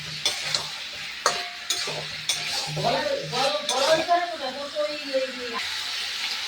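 Meat and potatoes stir-fried in a pan, with a sizzling hiss under repeated sharp scrapes and clanks of a metal spatula against the pan, while a person talks partway through.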